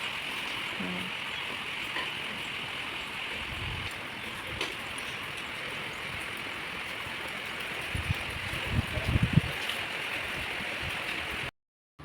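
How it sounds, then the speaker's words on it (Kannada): Heavy rain pours steadily all night outside a home, a dense continuous hiss with water running where it has pooled, holding even and fairly close throughout before cutting off at the very end. "ಮಳೆ ಬೇರೆ ಜೋರಾಗಿ ಬೀಳ್ತಿದೆ"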